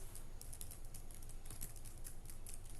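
Quiet, rapid keystrokes clatter on a computer keyboard in a steady irregular stream, with a low hum underneath.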